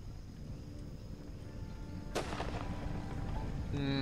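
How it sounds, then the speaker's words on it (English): Artillery fire in a Civil War strategy video game with British intervention: a sharp, loud cannon blast partway through, followed by rumbling and further gunfire layered over an ongoing battle din. "Okay, here comes the shots."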